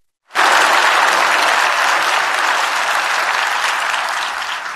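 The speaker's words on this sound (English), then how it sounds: "I'd like to thank them and give them a round of applause" A European conference audience bursts into applause after a moment of silence, loud, dense clapping that swells quickly and then holds steady, easing slightly toward the end.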